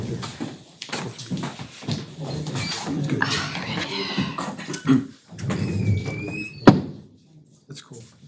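Doors open in a city council meeting chamber, with a series of thuds, clunks and shuffling that ends in one sharp bang, mixed with scattered murmuring voices.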